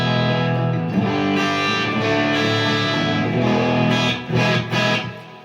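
Danelectro 59X electric guitar played through a Marshall JVM amp and 212 cabinet with heavy MXR reverb, sustained distorted chords ringing out loudly, then a few choppy stabs near the end.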